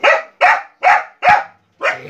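Several dogs bark noisily, five sharp evenly spaced barks close by and loud, with no voices over them.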